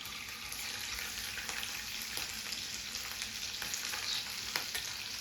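Ginger garlic paste frying in a few spoons of oil in a kadai on a gas stove, a dense close sizzle with crackling pops and occasional spoon scrapes, steady for several seconds without talk.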